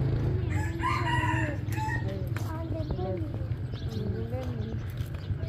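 A rooster crows several times outdoors, loud and fairly near, with clucking fowl and other farm birds around it and people talking throughout.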